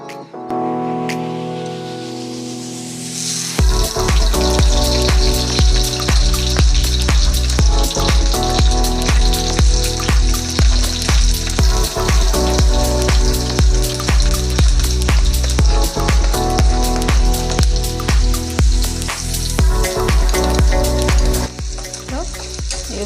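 Potatoes and cumin seeds frying in hot oil in a pan for a spiced dry aloo dish, a loud steady sizzle after a quieter start, with stirring clatter throughout.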